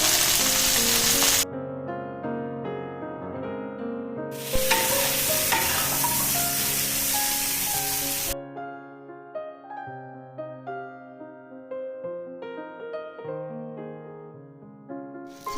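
Pointed gourd frying in oil crackles and sizzles in short bursts, broken by clear metallic clinks and taps of a spatula against the pan as the pieces are turned and lifted.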